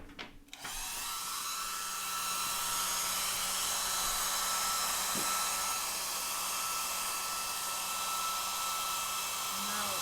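A steady, continuous blowing whir of a hair dryer runs loud and unbroken after a brief shuffle at the start.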